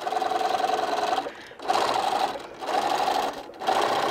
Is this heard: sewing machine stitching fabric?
yes